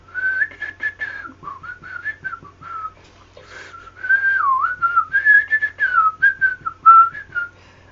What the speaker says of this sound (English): I don't know if that's whistling.